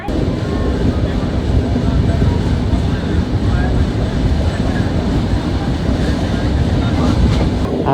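A Tirunelveli–Dadar superfast express train passes close by, a loud sustained rumble with rapid clickety-clack of wheels over rail joints running throughout.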